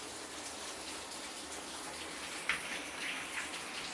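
Steady heavy typhoon rain hisses evenly throughout, a dense wash of falling water at moderate distance around a shop, with one brief sharper splash partway through.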